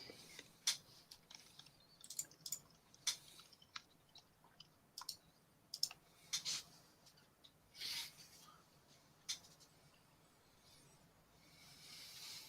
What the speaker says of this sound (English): I realize that I'm typing while live on Twitter